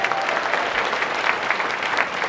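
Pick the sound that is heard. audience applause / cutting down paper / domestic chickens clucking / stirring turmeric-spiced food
audience applause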